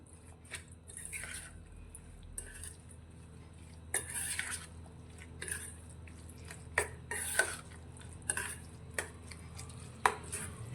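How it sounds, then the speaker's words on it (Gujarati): Crushed roasted peanuts being mixed into a mixture, with soft squishy stirring and irregular spoon taps and scrapes against a bowl, close and fairly quiet. "હવે બધી જ વસ્તુને આપણે સારી રીતે મિક્સ કરી લઈશું।"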